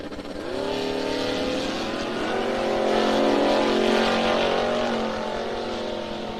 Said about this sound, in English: So Mustang on the left side, 460, big block Ford for power.